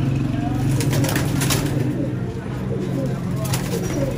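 Golden Teddy Qasoori pigeon cooing softly among other pigeons, low repeated coos under someone talking steadily close by.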